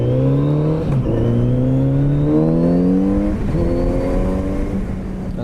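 A 2018 Kawasaki Z900RS motorcycle engine drones loudly and close while riding a full roundabout, its pitch climbing through rising gears with a brief dip near the start, then easing slightly toward the end.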